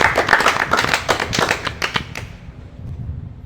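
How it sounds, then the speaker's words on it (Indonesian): A small indoor group claps for two invited guests at a school health discussion, a fairly dense patter of hand claps that thins out and stops after about two and a half seconds. "Tepuk tangannya dong untuk mereka"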